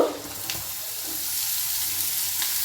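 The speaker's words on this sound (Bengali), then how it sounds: "এই গ্রেট করে রাখা ফুলকপিটা কিন্তু এর মধ্যে দিয়ে দেব" Grated cauliflower tipped into a sizzling pan of fried spice mix for gobi paratha filling, a loud, steady frying hiss that fills the whole short moment.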